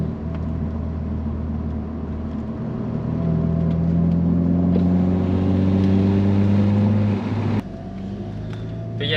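A car engine drones steadily from inside the vehicle as it drives, revs rising and falling through gear changes, with a brief clunk near the end.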